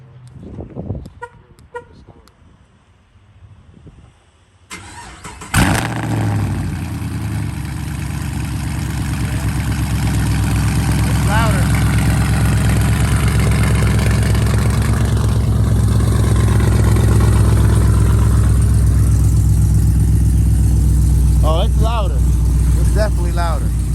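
After quiet talk and a few short chirps, a truck fitted with newly installed TSP headers is remote-started, cranks, and settles into a loud, steady, rumbling idle, with voices speaking over it.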